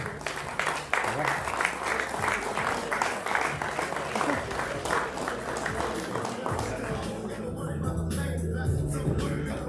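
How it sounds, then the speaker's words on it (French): A crowd claps and cheers at a boxing weigh-in for the Ambrosis Boxing Challenge as Paris boxer Hassan Bafeta is announced in the blue corner. Steady, fairly close applause continues for the whole stretch under an announcer's voice. "Hassan Bafeta s'il vous plaît, sous vos applaudissements."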